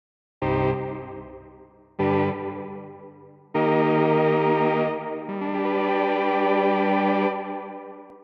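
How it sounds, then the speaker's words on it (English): A Cherry Audio Novachord synthesizer plays a series of sustained chords with a long, spacious hall reverb that lets each note ring out and blend into the next. "There is also a hall reverb."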